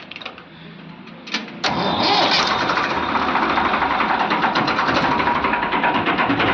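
A Farmtrac tractor with power steering cranks briefly, then its diesel engine catches and settles into a loud, steady idle with a rapid knocking rhythm close by.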